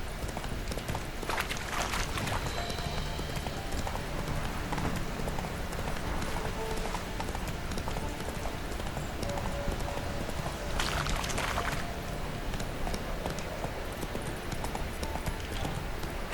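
Roach the horse gallops along in The Witcher 3, a steady stream of hoofbeats on the ground with soft ambient noise and a faint rain-like wash behind them.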